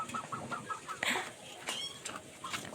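Chickens clucking in short repeated bursts, with scattered farmyard bird calls and light background noise.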